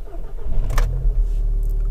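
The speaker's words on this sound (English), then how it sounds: "And let's start the car." A Volkswagen Golf, Passat or Eos, or an Audi A3, mk5/mk6 generation, cranks briefly with a sharp burst and catches, settling into a steady, close idle.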